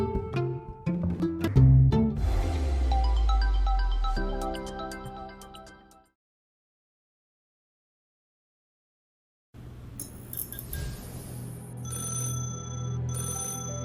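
An old mobile telephone rings loudly with a bright, repeating ringtone melody, cuts to silence for a few seconds, then resumes ringing in a second burst.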